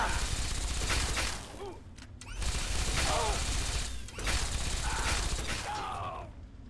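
In the video game Fallout 3, Gatling lasers fire in rapid, rattling mechanical bursts with short pauses between them, and the clatter stays loud and close.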